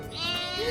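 One sheep bleat, short and wavering, heard close and fairly clear with nothing else over it.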